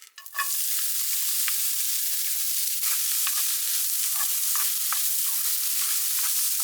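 Chopped onions dropped into a hot pan and stir-fried, a steady bright sizzle after an initial hiss, with light scraping and tapping of a spatula at irregular intervals, no voices.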